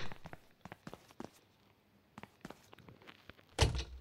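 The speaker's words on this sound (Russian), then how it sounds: "Открываем дверь." A door opening in the horror game map Sewer Mutant, preceded by faint footsteps and small clicks, then a single loud close thud near the end.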